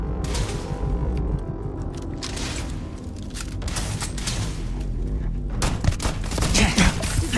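Repeated gunshots in the game Starfield pop through a busy, rumbling battle mix, scattered shots arriving at irregular intervals across the stretch without speech.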